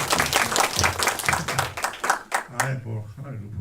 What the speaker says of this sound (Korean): 박수 한번 더 부탁드릴게요